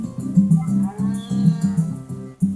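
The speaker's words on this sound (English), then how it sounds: "I'm gonna go ahead and nuzzle the cow first to keep her happy." A cow in the Harvest Moon: A Wonderful Life Special Edition farming game gives a series of short, repeated synthesized moos in an even rhythm, clear and fairly loud, with no talking over them.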